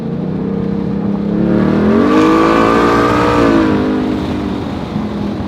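Roush Mustang V8 with its active exhaust set to custom mode and the valves open, giving a loud, steady throaty drone that swells in pitch mid-clip before easing back down, with no talking.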